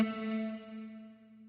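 An electric guitar note rings out through a Line 6 Helix Heliosphere delay with long reverb, a single sustained tone with bright harmonics that slowly decays, smooth and echoing.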